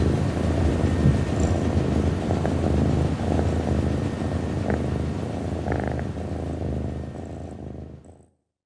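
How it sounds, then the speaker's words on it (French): A spaceship engine in the video game Dirge of Cerberus purrs with a low, steady rumbling hum that carries evenly for several seconds and then fades out near the end. "Il a dit qu'il arriverait à faire ronronner le vaisseau"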